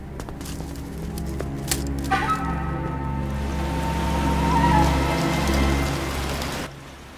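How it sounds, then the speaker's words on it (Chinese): Heavy rain pours steadily onto a courtyard outside a traditional house, a dense even hiss with faint drips and spatters. It runs on without talk, then cuts off near the end. "这天下雨了"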